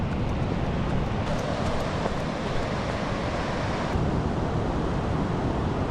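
Surf rolls in on a beach along the Great Ocean Road, a steady loud wash of breaking waves and wind close by that never lets up.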